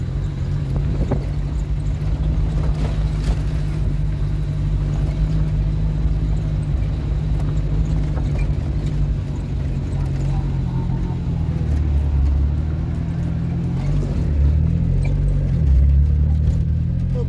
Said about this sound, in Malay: Kereta api.